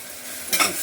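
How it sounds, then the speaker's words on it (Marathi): Tomatoes are sautéed in a pan: a close, loud hiss of frying with a brief burst of stirring and sizzle midway through the short moment. "आता टमाटा पण परतून घेते."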